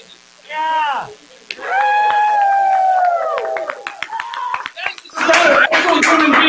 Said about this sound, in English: Actual human beings clapping 6 feet apart from each other in a room with their hands